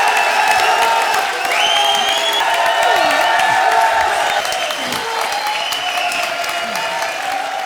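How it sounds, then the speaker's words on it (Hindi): Sustained loud applause and cheering from a comedy show audience, a steady dense wash of clapping with some whoops and crowd voices throughout, staying strong before easing slightly near the end. "जजेस ने स्टैंडिंग ओवेशन देकर इस एक्ट को बना दिया है आज का बिंगो एक्ट"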